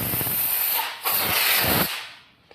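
Compressed air blasts dust out of the tubes of a girl's bicycle frame in two long, loud, steady hissing bursts with a brief break between them, then stops.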